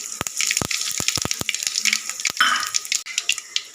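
Fennel seeds and mustard seeds dropped into hot oil in a kadai for a Madurai-style chicken gravy, a close, busy sizzle with sharp popping crackles scattered throughout.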